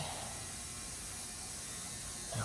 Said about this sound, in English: Going to just weld her up on this end.